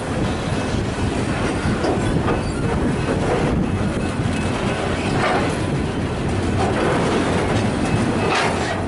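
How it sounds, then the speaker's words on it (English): A freight train laden with steel rolls past near the port of Hastings, Melbourne, a loud continuous rumble with rhythmic clickety-clack of wheels over rail joints and occasional wheel squeal, heard close and without talk. "This is the Long Island steel train. You can see that it's clearly laden with steel."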